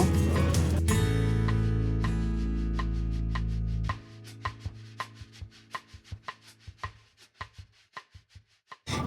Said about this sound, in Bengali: কিছুটা ধনেপাতা কেটে নেব